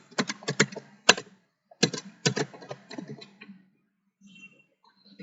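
Keys tapped on a computer keyboard in two quick bursts of clicking, separated by a short pause, close and clear with a few scattered soft taps trailing off at the end.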